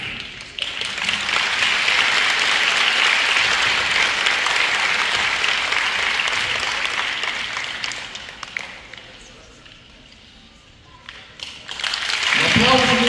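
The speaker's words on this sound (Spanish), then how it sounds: "Un aplauso muy bonito, generoso." A ceremony audience claps for a scholarship presentation, loud sustained applause that thins and fades toward the end before a burst of clapping returns at the close.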